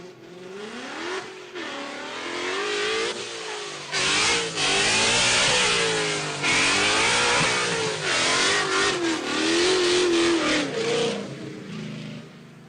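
A Ford Mustang drift car at a pro-am drift competition revs hard and repeatedly, its loud exhaust rising and falling in pitch through sustained bursts of throttle, close and dominant with no talk over it.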